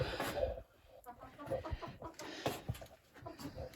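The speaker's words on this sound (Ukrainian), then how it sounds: "кури гуляють" Chickens cluck softly and intermittently nearby, a few low clucks and murmurs from a small flock, fairly quiet.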